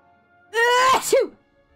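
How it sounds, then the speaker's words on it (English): A single loud human sneeze, close and sharp, with a voiced tail that rises and falls, heard against a quiet background during video game play. "Achoo! Bless you again."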